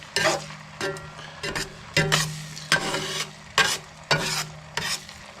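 Bell peppers sizzle and fry in a pan while a utensil stirs and scrapes in repeated strokes, close and steady, no talking.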